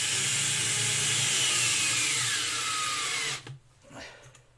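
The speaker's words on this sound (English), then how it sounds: "we'll just drive these through for a bit of added security" Power drill driving screws into a spalted beech wooden handle, a steady high whirring run lasting about three seconds, then cutting off abruptly, followed by faint handling noise.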